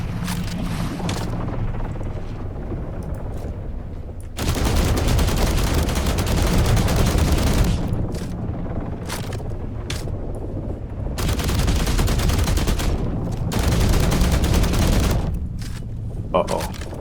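Bursts of rapid gunfire in the game The Last Caretaker, loud sustained volleys in several long stretches with brief lulls between, with a voice occasionally underneath.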